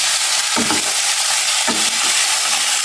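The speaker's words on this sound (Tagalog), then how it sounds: "Medyo gigisa natin. Para yung bawang ay lumasa sa karne yung bawang sibuyas" Garlic and onion sautéed with chicken wings for adobo, sizzling loudly and steadily in the pan, with a couple of stirring scrapes.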